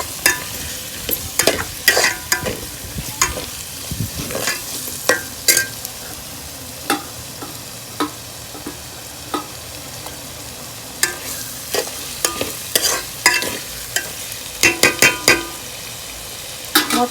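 Masala for kichdi sizzles steadily in a hot pan while a spatula scrapes and knocks through it in repeated sharp strokes, close up with no voices.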